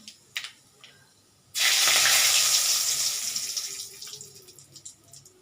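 Black mustard seeds and a bay leaf hit hot oil for suji upma, bursting into a loud, close sizzle that hisses steadily and slowly fades, with faint crackles afterward.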